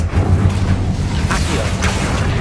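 Incendio fire spell cast in Hogwarts Legacy, a loud, sustained roaring rush of flame with a low rumble and brief whooshing bursts flaring partway through.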